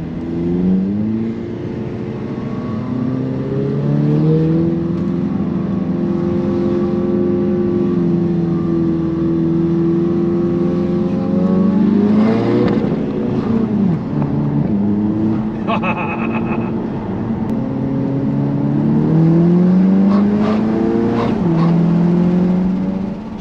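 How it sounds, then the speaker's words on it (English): An Audi TT Mk3 with a stage 2 remap revs in neutral, its engine note rising and falling through sustained loud revs heard close by, with a sharper climb near the end. "you can just rev it on the,"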